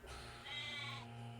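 Sheep bleating in the Nancy Drew video game The Haunting of Castle Malloy, during a sheep-shearing scene: a sustained, fairly loud bleat runs across most of the clip over a steady low game hum, with no talking.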